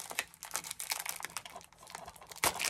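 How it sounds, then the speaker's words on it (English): Someone unwraps and unboxes a B-movie package, with crisp crinkling plastic, tearing and tapping sounds in quick irregular bursts, close up and without talk. "Let's unbox and unwrap here."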